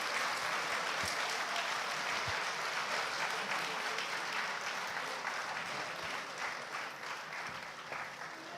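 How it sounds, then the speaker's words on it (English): Sustained applause from a conference audience, steady dense clapping that holds for several seconds at moderate distance and tapers slightly toward the end. "A round of applause"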